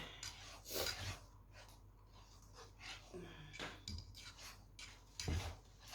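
Scraping and rubbing of a utensil stirring a thickening, drying mixture in a pot, in irregular bursts with faint clinks, close by; the cook's voice is heard.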